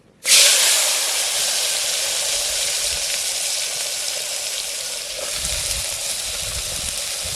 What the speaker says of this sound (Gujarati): હવે આપણે ડુંગળી બટેટા સકરિયા મળ્યા ને નાખી દઈએ